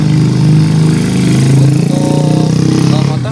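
Motorcycle engine idling steadily close by, a low pulsing putter that keeps a constant rhythm with a slight rise near the end, no one speaking.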